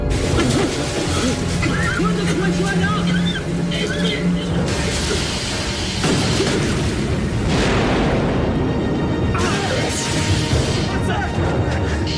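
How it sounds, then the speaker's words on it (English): An explosion aboard a submarine in an action film gives a sustained, loud, booming rumble with crashing debris and shifting roars over several seconds. Voices are mixed in with the blast. "Explosion was on the other craft"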